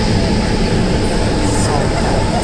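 Inside a crowded passenger train in Budapest, a steady loud rumble of the moving carriage fills the background, with a dense murmur of passengers and brief talk throughout.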